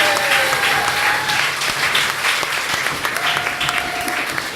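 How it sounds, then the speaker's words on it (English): An audience claps at a live show, loud sustained applause from a crowd, with a couple of high cheers or whistles rising above the dense clapping. "round of applause for you guys"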